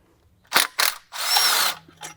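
A power tool zaps a 10mm bolt loose from the engine bracket of a 2007-2014 Volvo XC90 during a water pump and drive belt job. Two quick whirring bursts lead into a longer loud run, then one brief final burst, close by.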